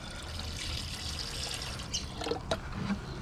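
Water tipped from a slightly tilted bucket, pouring in a steady broadband rush with a few splashy bursts toward the end, close and fairly quiet with no talking.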